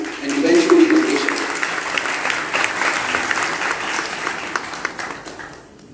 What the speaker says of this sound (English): we would request everybody to give a round of applause to all the faculty members out here